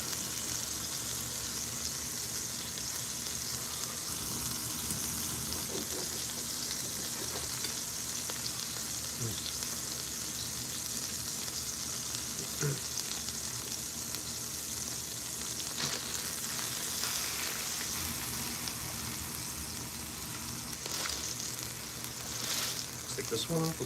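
Very thick steaks frying in a pan, making a loud, constant crackling sizzle that stays steady throughout, with a few faint clinks and occasional soft sounds mixed in.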